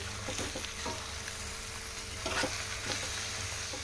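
Telangana-style fish curry stirred slowly in a pan, a soft simmering fry under a few gentle scraping strokes, quiet and close, without talk.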